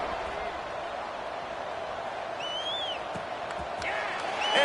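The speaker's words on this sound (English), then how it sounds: "this crowd is buzzing after that last score" Crowd buzzing in a stadium in a college football video game, a steady diffuse murmur of many voices that swells slightly toward the end, with a few whistle-like tones.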